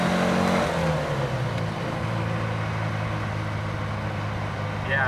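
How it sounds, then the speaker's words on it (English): An air-cooled Porsche 356 B of 60 horsepower pulls along at about 3,500 RPM, its engine humming steadily behind the cabin with a low continuous drone. The engine note shifts slightly early on, then holds constant. "this is an air-cooled Porsche. So this is the era where you have that really nice sound in the back"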